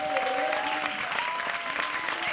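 Studio audience at a televised comedy show clapping steadily in a dense, continuous burst of applause, close and fairly loud with faint voices mixed in.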